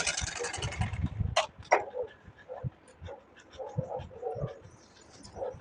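A sewing machine stitching a blouse runs in a short, rapid rhythmic burst at the start, then stops, leaving soft scattered handling noises and a quiet room.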